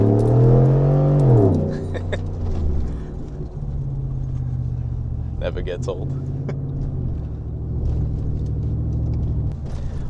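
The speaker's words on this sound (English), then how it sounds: "Little morning pull in the work truck." A work truck's engine revs hard and accelerates on a morning drive, its pitch climbing loudly before settling into a steady low rumble while someone talks over it.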